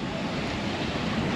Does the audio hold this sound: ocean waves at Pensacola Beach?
yes